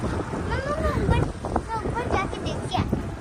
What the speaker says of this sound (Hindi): एकदम से इतनी तेज हवा चल पड़ी है।